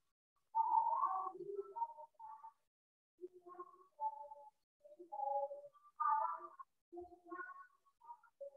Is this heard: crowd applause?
no